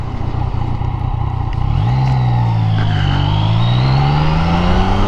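A motorbike rides beside a river, its engine humming steadily and then revving up as it pulls away, the pitch rising and falling with the throttle, loud and close with no talking.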